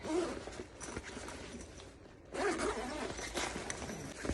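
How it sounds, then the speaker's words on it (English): A zipper on a rolling backpack's lower compartment is pulled in two quick runs, a short scratchy rasp, a brief pause, then a longer zip, close by. "It has a zipper thing down here."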